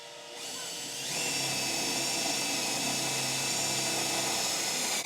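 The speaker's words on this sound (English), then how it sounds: "make a little hole at the front, then we're going to drill it and make it bigger" A power drill bores a hole through the metal bonnet of a Classic Mini to fit a gas strut, spinning up after a second into a steady, close, high whine that runs to the end.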